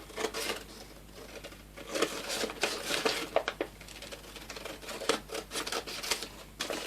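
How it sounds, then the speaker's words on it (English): Scissors snip through paper in a quick series of crisp, close cuts, some bunched together, with short pauses between strokes and no talking. "I just use a pair of scissors and cut them out"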